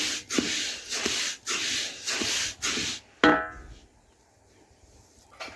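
Rice being stirred with a spatula in a hot pan while it is dry-roasted for puffed rice: a run of close scraping, rustling strokes in steady rhythm, then a sharp clatter and quieter shuffling.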